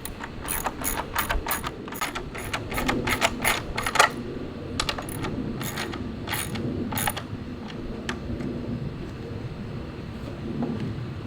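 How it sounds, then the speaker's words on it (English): Ratchet and 9/16 socket wrench tightening bolts on a wooden folding bench, a rapid series of sharp clicking bursts close by, pausing and resuming, over a low background rumble. "now I'm going to use 9/16 wrench and socket and tighten them up"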